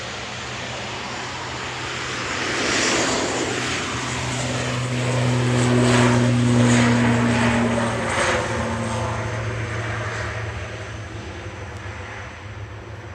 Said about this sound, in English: Logan Air departing to Isle of Man with flight